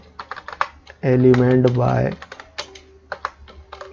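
Code typed on a computer keyboard during a JavaScript lesson: quick irregular clicking keystrokes close to the mic, briefly interrupted by someone speaking before the tapping resumes.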